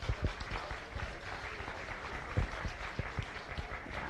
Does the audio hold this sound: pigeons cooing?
no